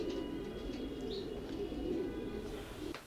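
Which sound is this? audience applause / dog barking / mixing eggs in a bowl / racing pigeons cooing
racing pigeons cooing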